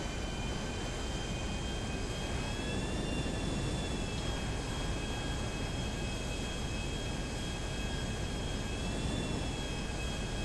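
An airplane engine in the video game GTA Online, a steady continuous jet-like roar with a sustained high whine, even and unbroken for the whole stretch, with no talk.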